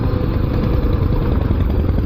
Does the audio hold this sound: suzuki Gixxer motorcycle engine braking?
yes